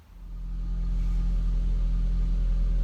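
A 1.8T Audi TT that won't run gives a steady, low mechanical rumble, close and continuous, as the engine turns over without catching.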